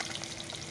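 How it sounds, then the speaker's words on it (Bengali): Fish frying in a pan of hot oil gives a steady, close crackling sizzle for a brief moment, with no talk over it. "মাছগুলো আগে ভেজে নেই"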